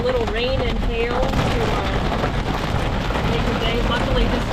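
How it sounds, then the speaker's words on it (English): Hail and rain drumming on a truck roof, a continuous dense patter heard from inside the cab, with a faint tonal whine running underneath. "Luckily, this is smaller than the hail we saw yesterday."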